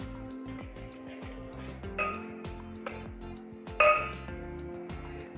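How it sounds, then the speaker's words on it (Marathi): Yogurt churned in a bowl for kadhi, heard as rhythmic close clinks and scrapes of a utensil against the bowl, with a couple of louder knocks and a low hum beneath. "ते दही घुसळून घेते"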